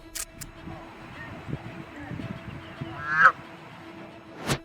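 A white goose honks while fighting a duck in the middle of a lake, with a couple of loud, nasal honks near the end. A narrating voice runs over it.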